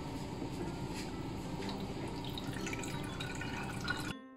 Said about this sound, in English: I like to put some cold water.